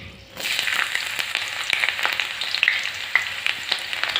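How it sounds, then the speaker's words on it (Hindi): Onions sizzling in a pan with cardamom, black pepper, cinnamon and cloves for veg pulao, a bright steady hiss starting suddenly and crackling on with sharp pops and stirring clicks, close and alone. "प्याज को अच्छे से लाल होने तक भूनेंगे"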